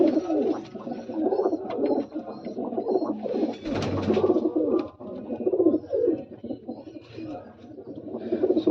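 Pigeons coo steadily in low, throaty rolling calls, several birds overlapping close by, with a brief louder flutter of wings midway.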